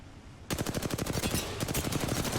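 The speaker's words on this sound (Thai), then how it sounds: "โทนยิงซ้าย" Rapid bursts of automatic gunfire in Apex Legends, a dense rattling volley starting abruptly after a brief quiet moment and continuing loud and steady.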